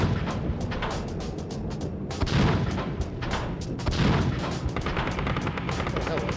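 Repeated heavy tank main-gun blasts from a PS1 video game, dense and loud, with two deeper booming shots standing out amid continuous rumbling battle noise.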